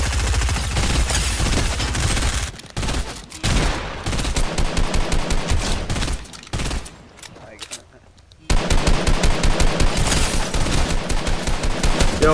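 Rapid automatic gunfire from a shooter video game, loud and continuous in dense bursts with brief pauses, one near-silent gap midway, then sustained firing again.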